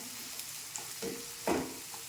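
Onion sautéing in a pan with crushed garlic cloves, a soft steady sizzle with a few louder stirring scrapes near the middle, close and fairly quiet, no voices.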